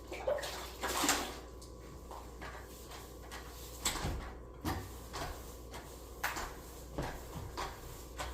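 Water running into a bucket of TSP cleaning solution, a soft, steady filling rush under faint bumps and knocks, fairly quiet throughout.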